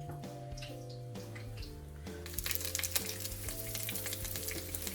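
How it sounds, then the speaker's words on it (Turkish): Chinese-style spring rolls (börek) coated in breadcrumbs fry in hot oil with a steady crackling sizzle that grows brighter and busier partway through, accompanied by a low background hum. "Böreklerin hepsini alt üst kızartıyoruz."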